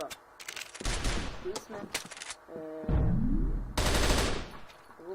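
Rapid automatic gunfire from a low-damage weapon in a shooting video game, bursts of loud shots with gaps between them, while someone talks over the action.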